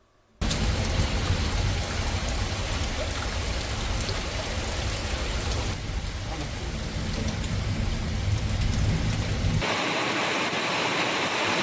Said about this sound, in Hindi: इलाके में धुआंधार बरसात तेज हवाओं के साथ बरस पड़ी।